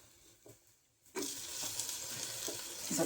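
Chopped onions sizzle in a hot pan, the frying starting abruptly after a quiet moment and then holding a steady, close, moderately loud crackle with occasional stirring scrapes.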